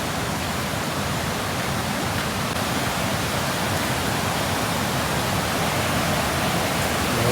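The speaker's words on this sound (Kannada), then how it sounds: "ನೀರು ತುಂಬ ರೌಸ್ ಆಗಿದೆ." Bangara Kusuma waterfall near Gerusoppa, Honnavar, roars as a dense, unbroken wash of broadband noise, steady and loud throughout with no voices.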